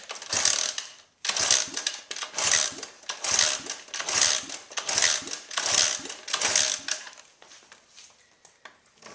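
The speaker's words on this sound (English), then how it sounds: "you want to keep kicking until the needle stops climbing" A cold engine is kick-started repeatedly during a compression test, about eight loud, rhythmic mechanical strokes close by, each a rasping churn, fading into quieter clicks at the end.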